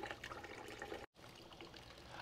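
Water flows steadily through a rusty vintage Honda CB450 K0 motorcycle fuel tank, a faint continuous pouring trickle that drops out for an instant midway, then resumes.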